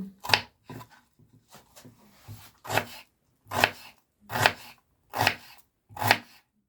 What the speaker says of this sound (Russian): Лук я буду нарезать обычным способом,